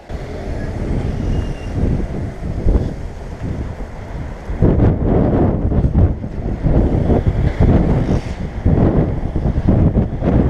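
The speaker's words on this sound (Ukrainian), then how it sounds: "І в нам виходить попутний вітер, такий теплий, але, але сильний." Strong, warm tailwind roars and buffets against the microphone in continuous loud gusts while cycling in Ternopil, growing rougher partway through.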